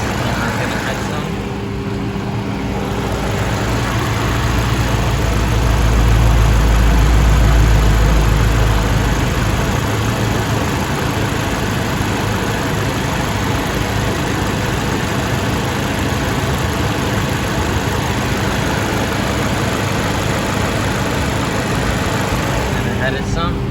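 Toyota Celica GTS with a 2ZZ engine runs steadily during a coolant flush, a loud, continuous engine drone that swells briefly as it is revved, with a person speaking over it at times.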